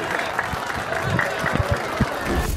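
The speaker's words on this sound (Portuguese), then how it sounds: "palmas," A crowd claps for a third-place finisher at the Bike Brasil 2019 mechanics challenge, a steady patter of applause mixed with cheers, whoops and chatter.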